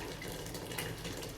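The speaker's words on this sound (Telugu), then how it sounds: "దానికి సరిపడా వాటర్ వేసుకోవాలండి" Water pours steadily into a cooking pot of basmati rice for aaku koora palav, a continuous soft splashing rush heard close up and at an even level.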